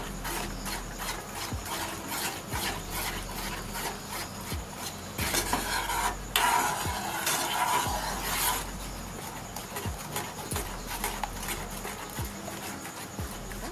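A spoon scrapes and rubs around a pot while mango pudding with milk and arrowroot is stirred, a steady repeating rasp with a brief louder scratchy patch midway, no talk.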